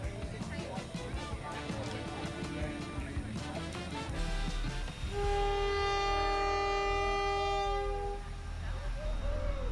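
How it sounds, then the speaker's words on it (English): A train whistle sounds one long, loud tone to start the annual Kuranda train race at a railway station, rising over crowd noise and bustle that continue beneath it. "That was the starting whistle for annual Kuranda train race."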